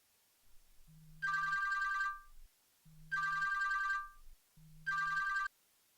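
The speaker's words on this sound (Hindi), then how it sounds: "तो बेटा शहरयार की वालदा को फोन कर लो।" A telephone rings back while a call is placed, three evenly spaced electronic ring bursts, each a low tone followed by a brighter two-tone chirp, clear and alone with short silences between.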